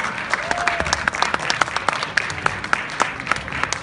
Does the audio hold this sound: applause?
yes